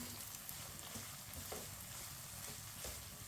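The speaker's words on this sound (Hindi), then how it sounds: "सूजी को ऐसे ही चम्मच चलाते हुए पकाना है।" Semolina dry-roasting in a pan for suji halwa, stirred steadily with a spoon, giving a soft continuous scraping rustle with occasional louder spoon scrapes against the metal.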